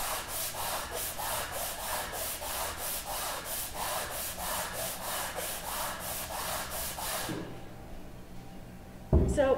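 Sandpaper rubbed by hand over wood in steady back-and-forth strokes, about fifteen even passes in a regular rhythm, close and fairly loud, stopping near the end before a brief knock.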